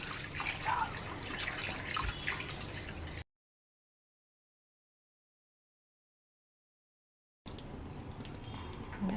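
Soaked lentils for idli batter being rubbed and rinsed in water, with close, soft splashing and trickling in two bursts separated by a stretch of silence.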